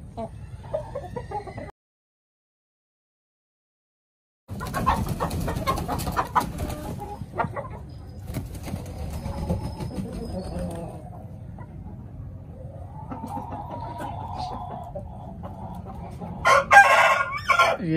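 Home-bred chickens at a house, a rooster crowing and hens clucking nearby, with a silent gap early and a voice talking briefly among the bird calls.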